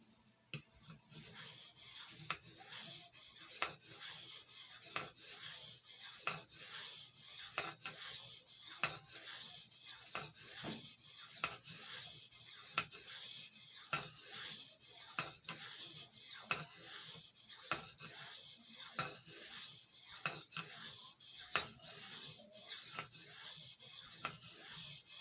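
A large stockman pocketknife blade is stroked across a soft Arkansas oilstone in a long run of regular rasping passes, each a brief scrape repeating at a steady rhythm, close and fairly quiet.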